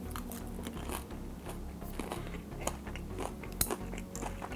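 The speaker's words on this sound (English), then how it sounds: "guys can hear that crunch" Crispy pan-fried frozen dumplings get bitten and chewed close to the ear. The crunches and crackles come in an irregular rhythm and stand alone, with no talk.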